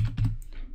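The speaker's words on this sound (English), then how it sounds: "I'm just going in and I'm typing that straight in" Brief burst of a few quick keystrokes on a computer keyboard, close and clear, with no voices.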